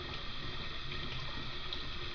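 A tap runs steadily into a sink while makeup brushes are rinsed, a continuous close, even splashing hiss with no talking.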